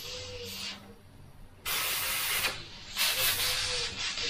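Close-up Badger airbrush spraying paint in three steady bursts of grainy, hissing air separated by short pauses, with no talking.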